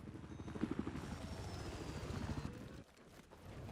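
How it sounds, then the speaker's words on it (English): Helicopters in a Battlefield 4 conquest match give off a steady, chopping rotor throb under other game sounds. The throb drops out abruptly near the end and then returns. "Both helicopters still up."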